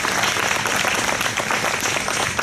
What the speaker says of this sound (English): let's give him another round of applause for all that he and his institution has